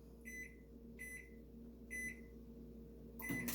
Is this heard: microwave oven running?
yes